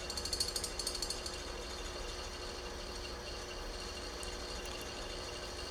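A noisy electric fan whirs with a faint steady mechanical rattle and hum, low in level, with a few quick clicking ticks near the start and no speech.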